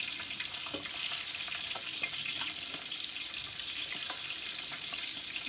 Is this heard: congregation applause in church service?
no